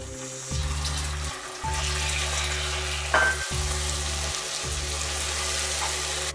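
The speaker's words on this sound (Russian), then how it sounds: "В растопленный сахар добавляю 200 грамм размягченного сливочного масла" 200 grams of softened butter goes into melted, caramelizing sugar in a pot, giving a steady bubbling sizzle with a brief louder burst partway through, close and even throughout, no talking.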